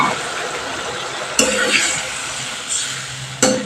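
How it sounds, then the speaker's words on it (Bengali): Okra sautéing with masala in a pan with sizzling frying noise, a sharp clatter as water is added and a second clatter near the end, steady and close. "মশলার সাথে ভেন্ডিটা ভালো করে কষিয়ে নিয়ে আমি এখানে সামান্য পরিমাণ জল অ্যাড করে দিলাম"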